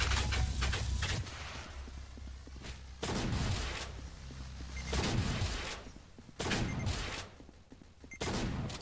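Shotgun blasts in a Roblox shooter game come in a loud, rapid string of sharp bursts with brief gaps, some overlapping, over a busy game background.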